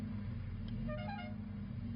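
A car horn gives a short double toot over a steady low engine rumble, faint and somewhat distant.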